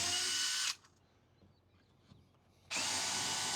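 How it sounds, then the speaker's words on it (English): A power drill bores bolt holes through a nitrile rubber piece during boat cabin-top support work, with two loud sustained bursts of whine separated by a quiet pause. "Brian's now drilling the rubber nitrile piece to get all of our bolt holes through"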